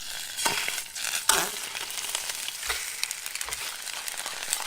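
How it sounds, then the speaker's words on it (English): Brook trout frying in olive oil in a pan, a steady close sizzle with crackling spits, occasional louder pops and a few clinks of a utensil against the pan. "These fish are just going to be simply fried in some olive oil"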